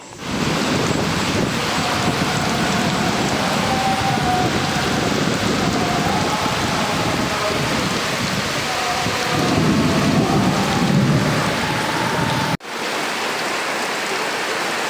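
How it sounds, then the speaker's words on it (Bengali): Heavy rain pours down steadily with dense, loud hiss and low rumbling thunder beneath, continuous throughout apart from a brief cut near the end, with no voices. "আজকেও বৃষ্টি হচ্ছে"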